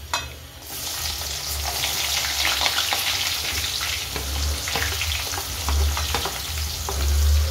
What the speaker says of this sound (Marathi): तर हे बघा कांदा छान फ्राय होतोय